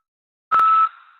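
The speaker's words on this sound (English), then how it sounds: "At the beep, repeat the phrase." A single clean electronic beep from a prison phone call system prompt, a sustained tone lasting about a third of a second that ends with a short fading tail, heard alone after silence.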